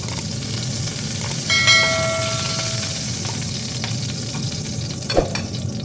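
Kebab fries in hot oil under a pan lid, a steady close sizzle and crackle throughout, with a brief ringing metallic tone from the lid partway through.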